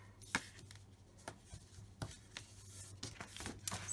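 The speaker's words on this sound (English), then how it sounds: "And then I'm going to add tape around the perimeter" Tape being pressed and rubbed along the edges of a handmade card, soft scratchy rubs and small taps close by, quiet and intermittent with no voice.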